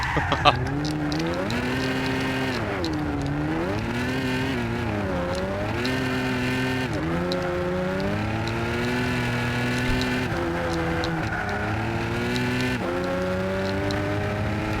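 Supercharged car engine in the Gran Turismo racing game holds a loud, continuous drone close up, its pitch sweeping up and down through repeated gear changes and rev swells, with no voices.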